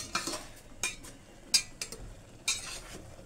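Noodles with mushrooms are stirred in a pan, and a metal utensil scrapes and clinks against it in several sharp, irregular taps over a faint background.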